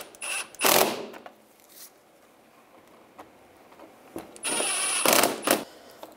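Screws are driven and tightened on the front bumper of a 2010-2017 Chevrolet Equinox, heard as a couple of loud bursts of a power tool whirring, separated by quieter clicks and ticks of handling parts; close and without talking.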